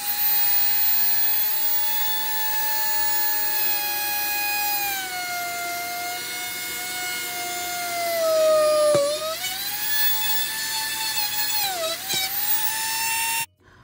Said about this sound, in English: that Dremel, it actually burns through the wood